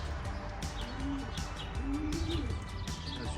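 Soft cooing of young homing pigeons at their coop, a few low rolling coos repeated under a steady wash of background noise and occasional faint chirps.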